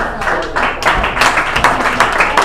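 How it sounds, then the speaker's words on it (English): A comedy show audience in Huntington Beach breaks into applause, a loud, close wash of clapping that swells after a brief lull and carries on steadily, with some crowd noise mixed in. "Come on, guys, give yourself a round of applause."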